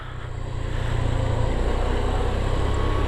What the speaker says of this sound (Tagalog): Puti, hindi maingay yung motor natin, no?